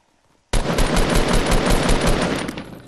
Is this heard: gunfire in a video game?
yes